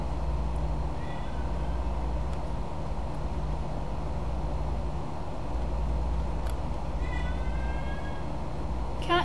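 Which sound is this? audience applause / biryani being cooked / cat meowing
cat meowing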